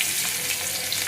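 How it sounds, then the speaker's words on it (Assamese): Onion sizzles in hot oil in a kadai, a close, continuous crackling hiss with no voices over it. "কেৰাহী গৰম হৈছে আৰু ইয়াতে মই তেল দি দিছোঁ আৰু অকণমান পিঁয়াজ দি"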